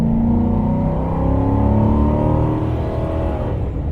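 A Ford F-150 with a 4.6 liter engine revs loudly and close, a sustained rising and falling roar for several seconds with no talking.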